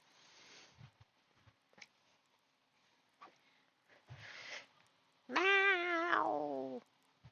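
A house cat gives one loud, drawn-out meow with a wavering pitch, standing clearly apart from a few faint clicks and soft background knocks in an otherwise quiet room.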